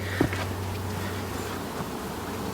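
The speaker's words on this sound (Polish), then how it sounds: "Pszczoły latają jak szalone." Many honeybees buzz in a dense, continuous hum close by, flying around hives without a break.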